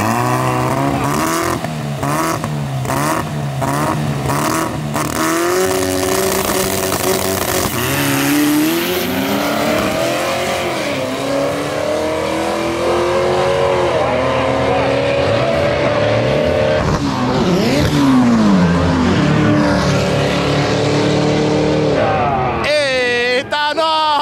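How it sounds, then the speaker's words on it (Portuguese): A Fiat 147 drag racing a naturally aspirated Camaro: loud, close engines revving in repeated pulses, then a long rising roar through the gears as the cars launch and pull away, with crowd noise underneath. "O 147 mais rápido do Brasil contra o Camaro aspirado."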